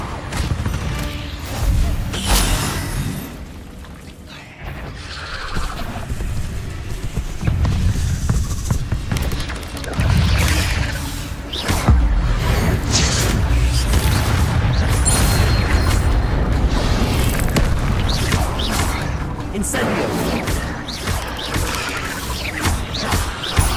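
Incendio fire spell cast in Hogwarts Legacy, loud booming whooshes and crashing impacts repeating throughout a spell-casting fight, with heavy rumbling low end and bursts of crackle.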